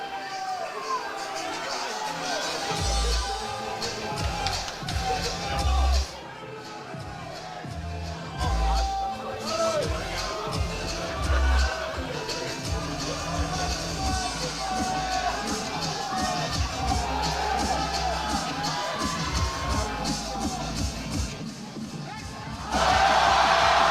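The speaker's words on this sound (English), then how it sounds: "Chanting Pena, trying to will him." A crowd at a powerlifting competition chants a lifter's name, Pena, in loud rhythmic voices, with cheers and shouts rising over a dense, roaring hall and a burst of louder noise at the end.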